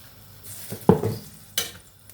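Ground beef simmering with tomato sauce and a splash of water in a pan, giving a couple of close stirring scrapes over a faint, soft sizzle.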